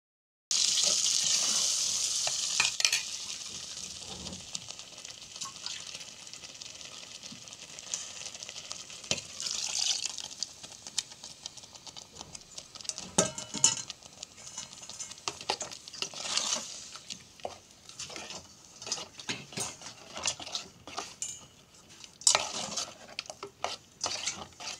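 Chicken frying in a pan with a paste of coconut, onion and tomato for a Malvani chicken dish, a steady hiss and sizzle broken by scraping, stirring and clinks of a utensil against the pan, with no talking.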